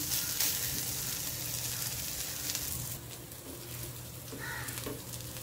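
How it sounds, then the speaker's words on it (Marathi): Corn cutlets frying in hot oil in a pan, a moderate close sizzle that holds steady and eases slightly partway through, with faint scraping and clinks. "आणि आता पॅनवर टाकायचे आहेत आपल्याला. पॅनवर तेल तापवलंय मी थोडंसं टाकून."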